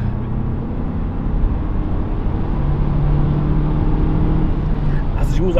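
A car with a 150 hp 1.3-litre petrol engine and six-speed gearbox accelerates hard, heard from inside as a dense, steadily building engine roar with faint talk in the cabin.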